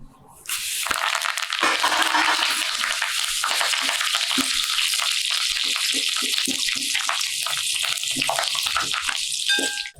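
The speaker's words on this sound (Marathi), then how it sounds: "कढीपत्ता सुद्धा भाजून झालाय एकदम कुरकुरीत कढीपत्ता करून घ्यायचा" Washed and dried curry leaves fry in hot oil for murmura chivda, giving a loud, continuous close-up sizzle with crackling and occasional stirring.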